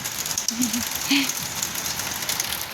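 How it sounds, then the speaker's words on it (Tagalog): Steady rain falling on an afternoon, a continuous hiss of drops on surfaces close by, with faint voices and a few brief sounds over it. "Andito na ang ulan."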